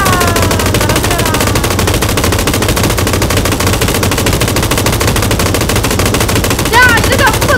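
Dense, loud automatic gunfire in PUBG on the Sanhok map, a continuous rapid rattle of machine-gun bursts that runs nearly unbroken throughout.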